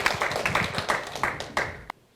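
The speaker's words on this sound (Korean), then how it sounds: "큰 박수로 한번 두 분께 감사 인사드리겠습니다." Audience members at a lecture colloquium clap in a short burst of distinct, fairly close handclaps with a loose rhythm, then stop abruptly.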